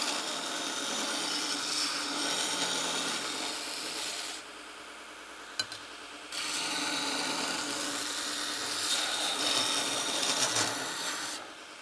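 A Vevor 30x1 belt sander runs with a steady abrasive whir, grinding metal in two long passes broken by a brief lull where the motor idles more quietly.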